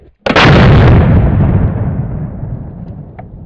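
A single loud, close gunshot from a Bear Creek Arsenal .450 Bushmaster rifle fired into the ground outdoors in wet weather, with a sharp blast followed by a long rolling decay and no talk.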